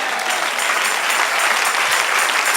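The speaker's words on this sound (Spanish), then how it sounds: "Den un aplauso al Señor" A church congregation breaks into loud, continuous applause, a dense steady roar of clapping from many hands that holds evenly throughout.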